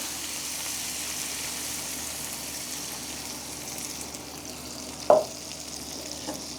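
Intestines stir-fried in a frying pan sizzle steadily and loudly after water is added, with one sharp clack of a utensil against the pan near the end.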